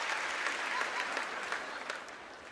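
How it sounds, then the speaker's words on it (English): Studio audience at a televised comedy benefit show applauding continuously, a steady dense wash of clapping that fades slightly toward the end. "Probably still clapping, so."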